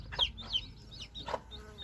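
A young hen gives a few soft, short clucks at close range, spaced irregularly over a quiet background.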